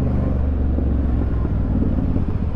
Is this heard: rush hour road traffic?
yes